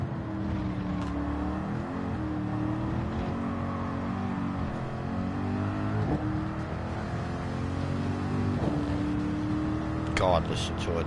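Daytona Coupe race car engine in Gran Turismo 7, a continuous engine drone with rising and falling rev sweeps throughout, with someone talking over it.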